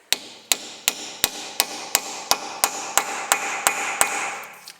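Repeated hammer blows drive a blunt chisel against a nut during a CV boot and joint replacement on a 2007 Honda CR-V, about a dozen sharp metallic strikes at a steady, even pace, close and loud.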